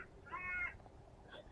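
A single faint caw-like bird call rings out briefly from a distance in quiet woodland on a warm spring day, with a softer call trailing after it.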